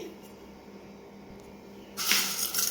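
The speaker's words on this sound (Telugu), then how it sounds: "ఇప్పుడు ఇవన్నీ నీట్గా కడుక్కోవాలి. ఇప్పుడు దీన్ని అయితే నీట్గా వాష్ చేసుకోవాలి." Rice and urad dal are washed in water: quiet kitchen background, then a sudden gush of running water and sloshing bursts in near the end, close and bright.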